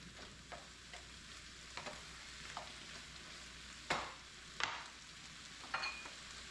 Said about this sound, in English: Last but not least, we'll throw in our shrimp. Let this all come together, heat up. Turn our fire up a little more.